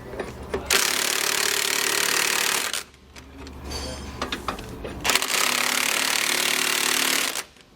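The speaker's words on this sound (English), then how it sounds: "Then you'll want to tighten this side down." A power tool tightens nuts on the hardware of a Roadmaster rear anti-sway bar on a 2015 Tiffin motorhome. It runs in two long, loud, harsh bursts, with a quieter gap of clanking in between.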